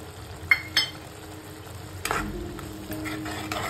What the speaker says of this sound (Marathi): हा 2 मिनिटासाठी फक्त आपल्याला मसाला परतून घ्यायचा आहे।